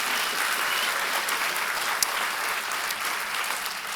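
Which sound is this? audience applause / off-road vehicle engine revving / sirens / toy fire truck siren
audience applause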